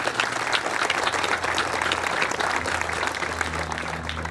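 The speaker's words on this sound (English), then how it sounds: "So one more round of applause," Sustained audience applause at the Winthrop Library grand opening ceremony: a dense, steady crowd clapping that fills the room evenly from start to finish.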